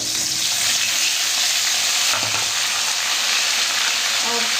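Green chillies and mushrooms frying in a little hot oil, a loud continuous sizzle close by with a brief stirring scrape partway through.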